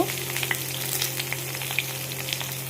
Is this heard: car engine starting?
no